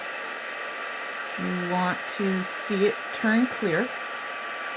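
A heat tool blows a steady stream of hot air to melt embossing powder, a constant close hiss running throughout while someone talks over it.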